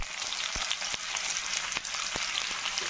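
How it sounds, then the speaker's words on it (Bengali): Chopped onions hit hot oil already tempered with black cumin seeds, giving a steady close crackling sizzle with a few sharp clicks of a spatula scraping the pan. "বা যে পেঁয়াজটা কেটে নিয়েছি সেই পেঁয়াজটা এখানে দিয়ে দিচ্ছি বন্ধুরা।"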